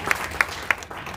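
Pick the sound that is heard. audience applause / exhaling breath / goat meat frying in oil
audience applause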